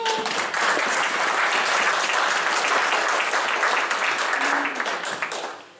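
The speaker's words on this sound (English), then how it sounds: "let's give them a little bit of applause" A conference audience applauds the event staff in a dense, steady burst of clapping that holds evenly and then tapers off at the end.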